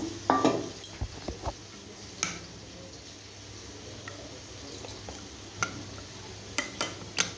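Ginger, cumin, chili and turmeric paste being stirred with water in a bowl for a thin fish curry, giving scattered spoon scrapes and clinks, a short burst near the start and a few sharp taps later, over steady kitchen background noise.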